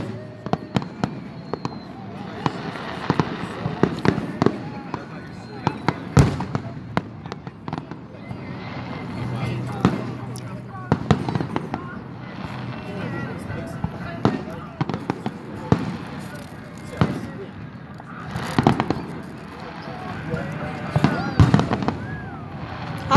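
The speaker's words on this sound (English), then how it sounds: "the audio of the fireworks is different than the picture" Fireworks burst outdoors in a string of sharp, loud cracks and booms spaced irregularly across the stretch, with crackling tails between blasts and people talking in the background.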